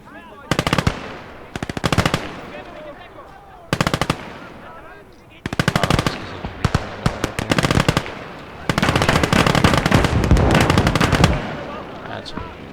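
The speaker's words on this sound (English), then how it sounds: "Feindliches MG!" Enemy machine gun fire rattles in long, loud automatic bursts in the WWII strategy game Call to Arms: Gates of Hell, Germany versus USSR, with several bursts separated by short gaps and growing denser toward the end.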